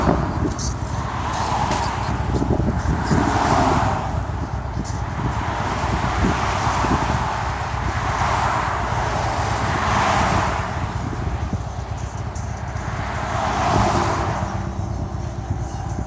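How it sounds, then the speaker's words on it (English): Steady road traffic in North Carolina, heard from a roadside with heavy wind buffeting, cars swelling and fading past every few seconds in a continuous rushing roar. "Traffic's pretty steady."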